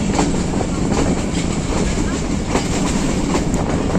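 An overloaded Kohat Express passenger train runs at speed on a Sunday, a loud, continuous rumble with rhythmic clickety-clack of wheels, heard close up from on board.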